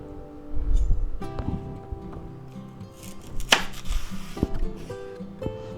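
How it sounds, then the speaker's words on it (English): A kitchen knife chops celery into strips on a cutting board: a dull thump, then irregular close taps and cuts, with a louder sharp chop midway and some light rustling, no speech. "now we're going to go ahead and slice up some celery"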